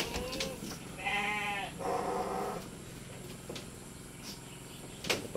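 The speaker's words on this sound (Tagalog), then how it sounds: "Tingnan po natin yung mga alaga nating kambing." Goats in a farm goat house bleating in a few short, wavering calls close by, with quieter animal noise and shuffling between them.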